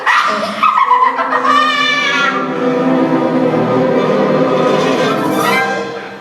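A small dog barks and yips in excited bursts through a scene from The Wizard of Oz, mixed with loud orchestral music and a voice, the yaps fairly close and clear at the start.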